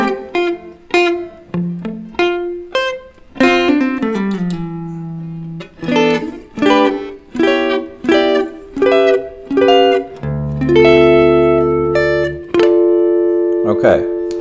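Solo electric guitar plays the verse of a song, a sequence of plucked melody notes and chords with clear attacks and decays that ends on a long sustained chord, close and fairly loud, with no voice.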